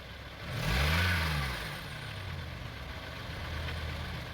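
A car engine is revved once while its oxygen sensors are being tested, rising to a loud swelling roar and then settling back to a steady idle hum.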